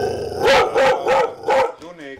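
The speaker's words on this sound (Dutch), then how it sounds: "Dus er loopt ook een hond binnen hoor." Dog indoors in a home, barking four times in a steady rhythm of sharp, close barks, followed by a brief whine or yip at the end.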